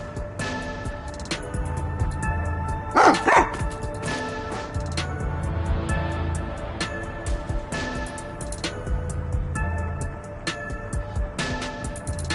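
Game dog barking in Raincode, a few short barks and yips scattered over steady background music, with a louder cluster partway through.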